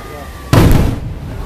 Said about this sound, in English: They're doing the fireworks.